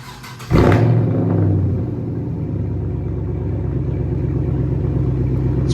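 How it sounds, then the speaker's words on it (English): A 5th-gen Camaro 2SS with a muffler and resonator delete cold-starts with a sharp crank and a loud roaring flare. It then settles into a deep, rumbling, slightly choppy idle that stays steady and close, with no voices. "I'm about to give y'all a cold start of the muffler and resonator delete"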